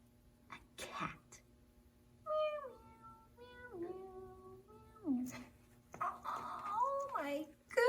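A voice imitates a cat's meowing during a puppet story, several drawn-out sliding meows in a row between bits of quiet talk, close and soft.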